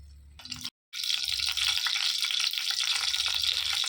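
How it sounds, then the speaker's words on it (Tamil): Oil heating in a pan for mutton thokku varuval, a steady hiss with faint bubbling and crackle, briefly cut by a short gap near the start. "எண்ணெய் சூடாகிற வரைக்கும் வெயிட் பண்ணலாம்."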